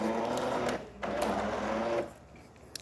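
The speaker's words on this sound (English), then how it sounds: "we have a nice shot of espresso coming out from this beautiful machine" Jura Impressa S9 espresso machine brewing a shot, a steady mechanical pump hum broken by brief pauses, with a sharper surge near the end; close and fairly quiet, with no voices.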